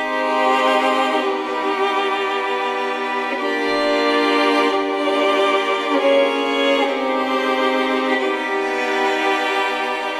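Chill beat built from synth chords made with music production plugins, sustained harmonic layers shifting every couple of seconds with a steady soft pulse, full and even in level with no voices.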